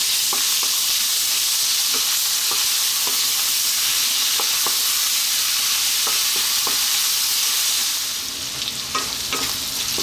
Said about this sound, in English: Let's just throw this around in the pan for just 2 minutes.